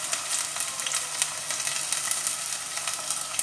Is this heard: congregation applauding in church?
no